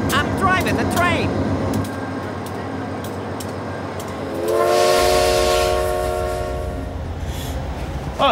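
The Empire Builder train rumbles steadily along, with a sustained horn blast sounding partway through and some voices and clatter early on.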